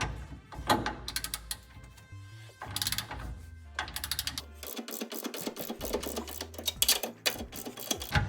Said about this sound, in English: The next step is going to be torquing those bolts down, and the factory spec for the U-bolts is 86 pound-feet.